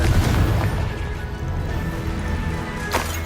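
A Confringo blasting spell explodes in Hogwarts Legacy, a deep rumbling boom at the start that decays into a sustained roar, with a sharper crack near the end.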